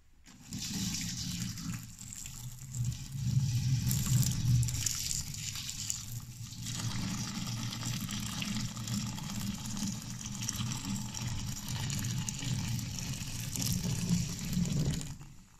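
Water pours steadily into a container, a continuous close gushing splash that shifts slightly in tone as it fills, with no talking.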